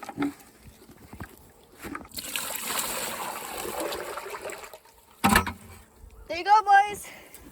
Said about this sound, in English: I'm getting you some water.